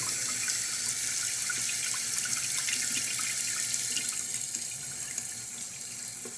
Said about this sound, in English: I'm just turning on the water, nothing special